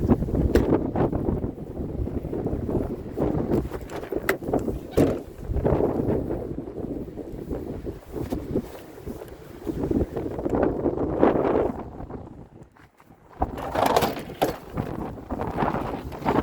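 Outdoor wind buffets the microphone in a steady, loud roar, rising and easing in gusts with a brief lull before it picks up again.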